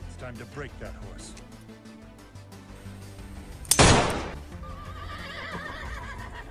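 Horse neighing in an animated film trailer about a wild mustang stallion, a loud sharp whinny bursting out midway over dramatic music, with voices speaking around it and hoofbeat-like thumps.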